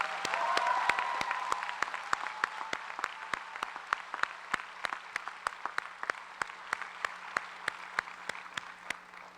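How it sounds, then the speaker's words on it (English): Audience at a Washington College commencement ceremony applauding: steady, evenly spaced claps ring out in a large hall at moderate volume, with a brief voice at the start. "Let's give them all a round of applause."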